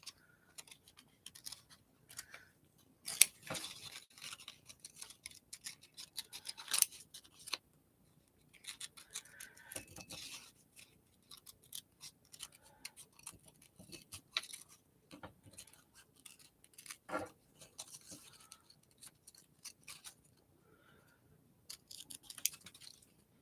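Scissors snip a butterfly shape out of painted paper, making quiet, close, irregular clusters of short cuts and crisp paper rustles separated by brief pauses.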